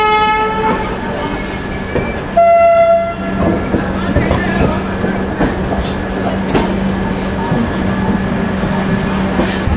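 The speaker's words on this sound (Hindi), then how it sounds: "जन शताब्दी ने अब पकड़ी रफ्तार।" An electric-hauled Jan Shatabdi Express AC chair car train running steadily between Patna and Ranchi, with a continuous loud low rumble, rhythmic wheel clatter and a brief horn-like tone partway through.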